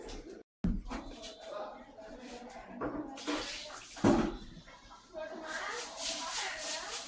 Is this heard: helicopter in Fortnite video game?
no